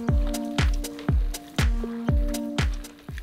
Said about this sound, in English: And we're just gonna mix this up.